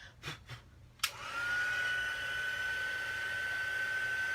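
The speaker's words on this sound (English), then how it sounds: "now I'm taking the heat embossing tool, and bear with me because we are going to heat emboss it" Heat embossing tool blowing hot air onto embossing powder during card making, a steady whooshing hiss that switches on after a couple of soft taps and runs evenly to the end.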